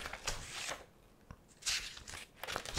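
Paper rustles and crinkles in several short bursts, close by, with brief pauses between handlings.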